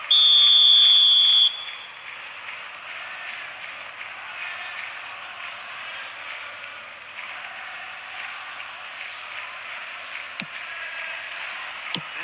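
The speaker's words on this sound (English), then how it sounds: "There's the whistle." Referee whistle blasts loud and alone at the opening of an eFootball match, followed by a steady, lively stadium crowd roar throughout, with a couple of sharp brief peaks near the end.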